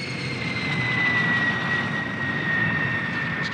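A jet aircraft on final approach to land gives a steady, loud engine roar with a sustained high whine that holds level throughout, with no talk.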